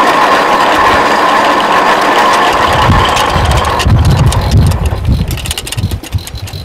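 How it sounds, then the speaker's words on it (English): An antique engine's gear train runs steadily at an antique machinery show, with a dense, grinding drone and rattling gears, then the tone thins and turns choppier toward the end. "When you put the clutch in, that rotates your gear."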